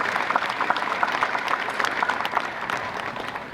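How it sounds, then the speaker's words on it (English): Audience at a burial in Uganda clapping for the President, a dense burst of many hands applauding close by, fading slightly toward the end. "Can we clap for His Excellency the President?"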